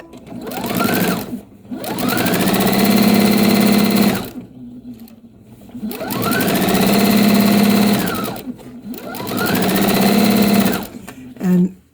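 A sewing machine stitches patchwork quilt blocks in three sustained whirring runs that ramp up and wind down, separated by short pauses. It is close and loud, and someone talks between and over the runs.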